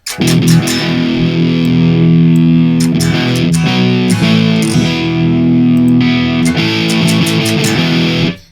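Loud, crunchy distorted electric guitar through the Amplitube 5 amp simulator, playing sustained chords and riffs, thick and saturated, with brief pick scrapes between phrases.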